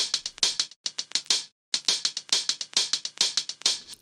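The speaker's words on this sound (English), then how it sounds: "I added this very nice hi-hat loop" Hi-hat loop chopped up aggressively for a beat-battle track, a fast run of bright, close ticks in uneven rhythmic bursts with a short gap partway through, alone.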